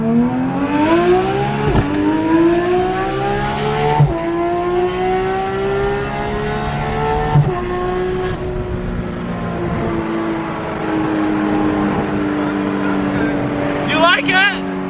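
A Porsche 991.2 GT3 RS with a modified exhaust revs hard toward a 9,000 rpm limit, rising in pitch through several gear pulls with sharp shifts, recorded from inside the cabin while occupants talk over it.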